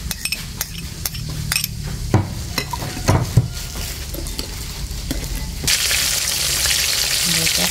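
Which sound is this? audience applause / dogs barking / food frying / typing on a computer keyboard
food frying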